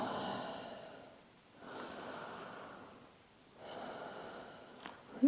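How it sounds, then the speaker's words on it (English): Slow, deep breaths drawn in and out during a basic Pilates lower back stretch, a few soft airy cycles close to the microphone with no talking over them. "Just another couple of breaths here."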